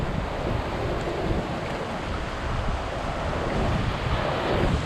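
Continuous broadband wash of ocean surf, steady and fairly loud, mixed with wind rumble and no voices.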